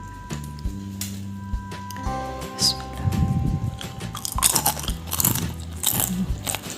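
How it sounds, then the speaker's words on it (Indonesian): Crunchy homemade Indonesian peanut peyek cracker bitten and chewed up close, brittle crackling crunches rising over a steady background music bed, no talk. "Ini enak, kriuk, renyah, dan kacangnya itu matang banget ya sampai ke dalam."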